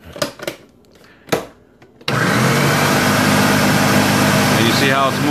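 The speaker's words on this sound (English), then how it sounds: "then you hit it again with the blender" A blender whirs loudly and continuously as it purees chickpeas with a splash of chickpea cooking liquid into hummus, starting abruptly after a few brief knocks and handling noises.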